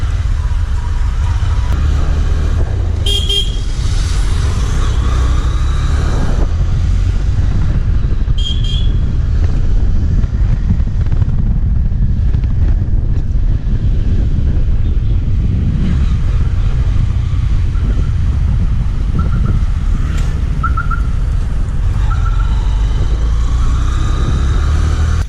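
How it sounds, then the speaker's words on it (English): A Honda Shine BS6 motorcycle is being ridden, its engine and exhaust giving a loud, steady low drone. Wind rush rises and falls over the engine, and a few brief higher tones cut in along the way. "the exhaust sound and the engine is so smooth"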